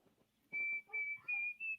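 A person whistles close by: four short, clear, high notes in a quick little phrase, each held briefly, with near silence around them.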